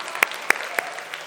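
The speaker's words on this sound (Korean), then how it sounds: "하나님께 감사의 박수 올려드릴까요?" A few sparse handclaps ring out at a Sunday university worship service in a Korean church, three sharp claps spaced evenly over about a second with faint room tone between them.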